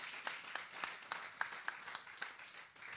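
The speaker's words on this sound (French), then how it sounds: "Évidemment, on l'applaudit aussi." An audience claps in a modest, fairly sparse round of applause at moderate distance, individual hand claps popping out rhythmically about every quarter second over a softer bed of clapping.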